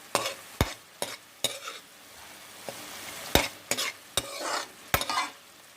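A spoon stirs ground tomato and onion paste in a frying pan for chicken gravy, giving a series of sharp scraping strokes at an uneven rhythm over a soft, steady sizzle, close and fairly loud.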